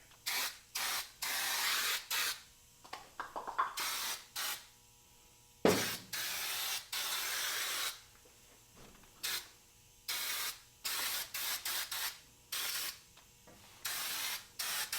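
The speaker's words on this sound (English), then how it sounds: "Oh, this can's spraying a lot better." Repeated hissing bursts of a spray paint can, some long and some short, with brief quiet gaps between sprays.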